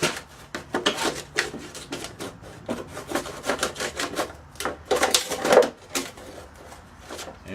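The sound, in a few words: cutting around a plastic bottle plant pot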